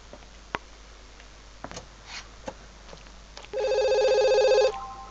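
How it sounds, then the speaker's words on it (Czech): A telephone rings in The Sims 2 video game, one loud electronic ringtone burst lasting about a second after a quiet stretch of faint clicks. "Jo, vzít telefon."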